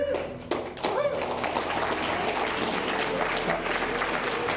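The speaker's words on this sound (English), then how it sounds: "let's give a big round of applause to our panel for the evening" Audience applause at a design career panel evening, a sustained spread of clapping at moderate distance with a brief voice or two near the start.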